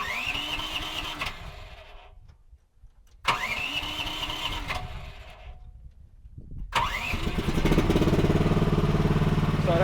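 A Chinese mini excavator's engine cranks and catches twice, dying back to near silence between attempts. On the third try it settles into a steady, loud running rumble.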